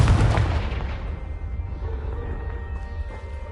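The Confringo blasting spell explodes in Hogwarts Legacy with one loud, deep boom at the start that slowly rumbles away into quiet ambience.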